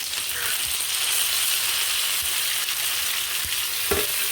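Spicy chicken puli munchi fries in a pan with onion, tomato and cumin, making a constant close sizzle. Occasional sharp taps and scrapes of stirring break through the hiss, with no talking.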